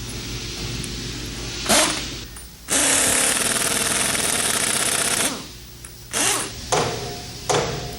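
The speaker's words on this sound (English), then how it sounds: "the other bolts are screwed in and torqued down" Bolts are driven in and torqued down with a power tool on an ELMAGCO electromagnetic brake housing during repair, giving a long sustained mechanical burst between shorter rattling bursts, close and loud over a steady low hum.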